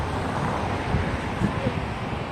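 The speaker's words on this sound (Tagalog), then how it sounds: "Mahangin pa." Steady wind rushes and buffets against the microphone in a broad, rumbling roar outdoors in Ontario as rain arrives, with faint voices mixed in beneath.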